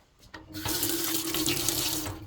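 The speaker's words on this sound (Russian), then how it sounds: "Давайте набор воды посмотрим." A kitchen faucet runs into a sink in an apartment in Osh, starting with a few faint taps and then gushing in a steady, strong stream close by until the end.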